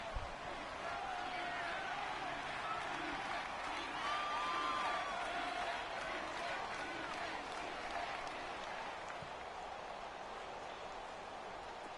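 A video-game stadium crowd in a PS4 NFL football game, Cowboys against Detroit late in the fourth quarter, keeps up a steady roar of cheering and applause, with a commentator talking over it.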